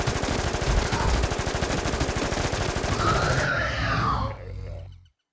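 Rapid gunfire from the KT Decider shotgun rings out in the video game Infestation during a boss hunt in an abandoned town, a dense, fast stream of loud shots that stops abruptly, leaving a brief fading tail.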